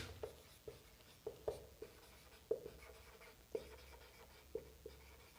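Marker or chalk tapping and stroking on a board while curves are drawn on a 2D plane for a maths lesson, a series of sharp, fairly faint clicks and strokes spaced about a second apart, with no talk.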